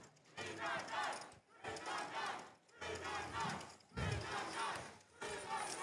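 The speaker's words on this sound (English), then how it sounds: "The crowd is cheering for Eagle Robotics." A crowd cheers and yells for a team at a high-school robotics competition match, loud, sustained bursts of roaring with brief dips between them, rising and falling in waves.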